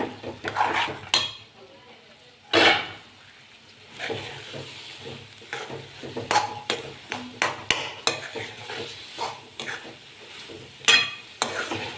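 Eggplant masala for Kathiyawadi-style oro being stirred and sautéed in a pan: close, uneven scraping and clattering strokes of a spoon against metal, with soft frying hiss between them.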